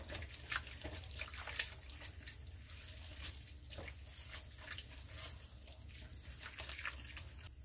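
Noodles are rinsed under running water from a kitchen tap, a steady splashing hiss with small irregular spatters, close and fairly soft throughout.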